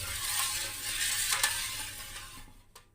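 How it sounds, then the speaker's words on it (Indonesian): Coconut milk being stirred together with water and a pinch of salt in a pot, a steady soft swishing and faint clinking at close range, ending with a couple of sharper spoon taps. "Kemudian ini kita aduk dulu sampai santannya tercampur merata dengan air."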